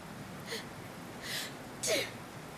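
A sneeze in a Dragon Quest XI cutscene, a short breathy burst preceded by two softer sniffly intakes, fairly close and set against a quiet ambient backdrop.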